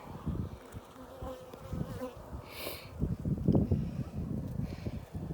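Honey bees buzz steadily inside an open beehive colony during a hive inspection, a continuous close insect drone with brief rustles and handling sounds throughout.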